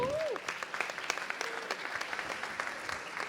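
An audience at a conference talk applauds for a speaker, steady close clapping from a modest crowd lasting several seconds, with a brief voice at the very start.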